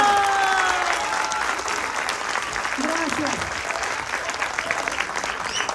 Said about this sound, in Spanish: Otro fuerte aplauso a cada uno de los artistas que tenemos aquí, que lo hicieron perfecto.